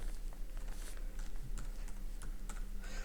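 Computer keyboard typing out Solidity code for a smart contract, a quiet, steady patter of close key clicks with no voices.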